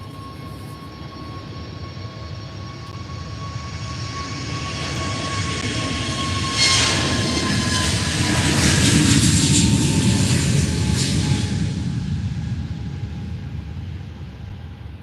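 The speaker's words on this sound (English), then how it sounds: "EasyJet A320 Neo going now to, I think, London Luton" An easyJet Airbus A320neo departs Faro airport, its jet engines roaring steadily and swelling to a peak midway before easing off as it climbs away, heard alone at a distance.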